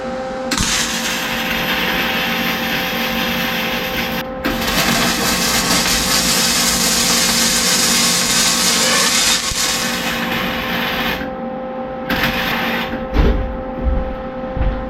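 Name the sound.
MIG welder welding metal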